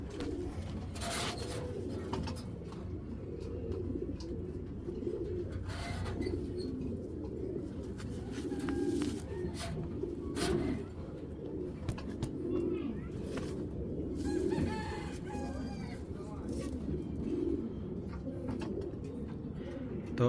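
A female racing pigeon coos softly and repeatedly at close range, its low murmuring calls running under someone talking and faint background noise.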